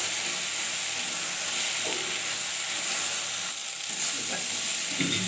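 Chopped vegetables sauté in a pan with a steady, close hiss of frying and a few light stirring scrapes, continuous and without speech.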